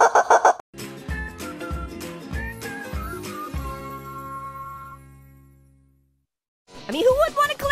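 A chicken clucks in loud, choppy bursts, the calls running together in a near, busy stretch before trailing off; after a short silence, more loud squawking returns.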